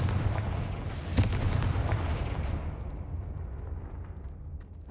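The Confringo blasting spell in Hogwarts Legacy, a deep booming explosion with a sharp burst near the start, followed by a low rumbling decay that fades over a few seconds, with no voices.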